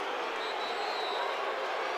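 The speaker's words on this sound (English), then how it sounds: "Listen to this crowd." High school football crowd at a Grimsley vs West Charlotte game cheering ahead of a two-point try, a dense continuous roar of many voices, steady and loud throughout with no breaks.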